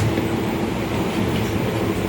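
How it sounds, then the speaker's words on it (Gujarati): A passenger train rolls on its rails between Porbandar and Ahmedabad, giving a loud, steady rumble as heard from inside the carriage, with no speech. "અમારી ટ્રેન ચાલતી થઈ ગઈ"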